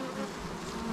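Worker bees buzzing around a hive, a dense continuous drone of many insects, steady and close with no voices.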